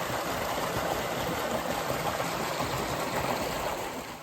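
Creek water flowing through a canyon along Mineral Creek in New Mexico, a steady broadband rush and babble beside a swimming-deep pool, close and continuous with no voices.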